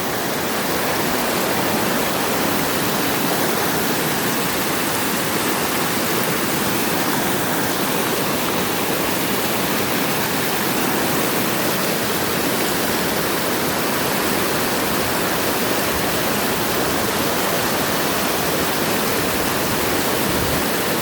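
Reddish river water rushes steadily in a dense, even broadband roar, loud and unbroken throughout with no voices.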